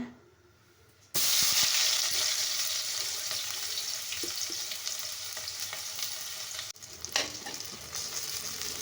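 Mustard seeds and onion hit hot oil in a kadai, bursting into a loud, steady sizzle after a quiet start, with close frying hiss continuing throughout and a brief dip midway.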